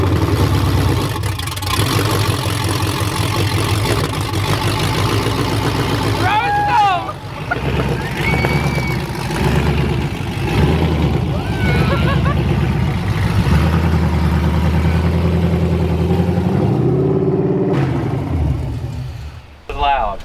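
A BMW E36 with a swapped-in V8 runs hard during a burnout, giving a loud, continuous engine roar with rising and falling revs. Brief squeals cut in partway through, people talk over it, and the noise cuts off abruptly at the end.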